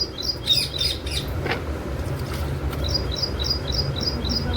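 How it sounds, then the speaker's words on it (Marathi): A parrot sitting in a farm field gives short, repeated chirping calls, a few early and then a steady series near the end, over a constant outdoor rumble during a cowpea harvest. "मध्येच पोपटरावाले होते मस्त शेतामध्ये बसले होते तर त्यांचा आवाजही तुम्हाला ऐकू होईल"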